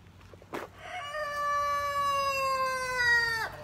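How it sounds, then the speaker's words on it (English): A rooster crows once in a long, clear, drawn-out call at moderate distance, preceded by a brief rustle and ending abruptly. "Let's see if I can find that cock. I like the sound of it."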